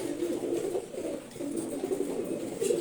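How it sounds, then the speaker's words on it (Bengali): Eight male pigeons coo continuously in a new cage measuring three by three by five feet. The low, rolling cooing is close and steady, with no voices. "আপাতত আটটা কবুতর রাখছি নর কবুতর সব"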